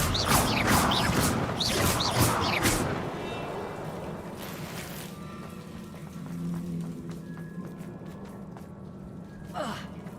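A Confringo blasting spell fired in the Hogwarts Legacy video game, its burst landing amid a loud, busy opening of gasping effort sounds and crashing impacts, then settling into quieter ambient game noise with a brief sharp hit near the end.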